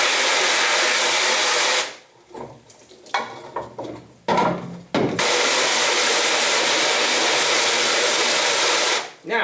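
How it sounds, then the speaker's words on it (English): Water hose spraying onto a screen printing screen coated with wet, uncured emulsion during stencil washout: a loud, steady hiss for about two seconds, a pause with light knocks and handling, then a second long burst of spray. "wet the screen down and you can let it sit like for a minute"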